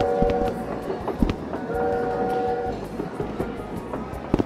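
A train heard from a window in the video game Rec Room, a steady rolling rumble with sustained horn-like tones and occasional clanks, fairly loud and continuous.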